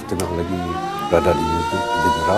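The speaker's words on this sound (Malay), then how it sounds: "bunyi siren" A wailing siren rises and holds its tone, loud and steady, while a person speaks over it, at the Penang ferry terminal collapse in 1988.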